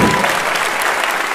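Audience applause at a stand-up comedy show in Portugal, a dense steady clapping from a live crowd that holds at an even level throughout the short stretch.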